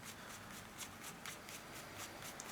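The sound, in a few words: shuffling playing cards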